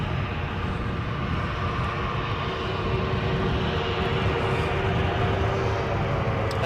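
A British Airways A321neo or KLM 737-800 airliner produces a steady, fairly loud jet engine roar at Edinburgh, a continuous broad rumble with a faint whine.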